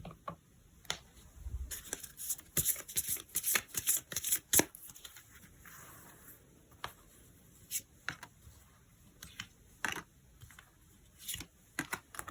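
Tarot cards are shuffled by hand in quick, crisp riffling bursts with soft slaps and flicks, close and fairly quiet, continuing in irregular clusters with no talking.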